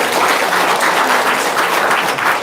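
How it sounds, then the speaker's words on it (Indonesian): A dense, loud round of audience applause breaks out at a live Q&A session and continues without pause from start to finish, with no talking over it. "Tepuk tangan dong"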